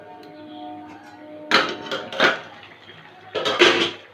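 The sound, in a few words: pot being covered with a lid while cooking broccoli curry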